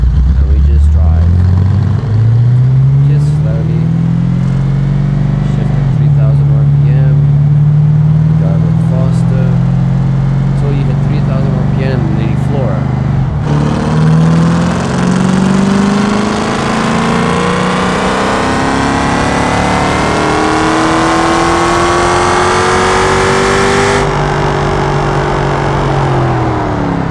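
A car engine in a Roblox game, a stock naturally aspirated 6.5 liter V8, revs up through the gears, its loud droning pitch climbing, dropping at a shift, then rising again.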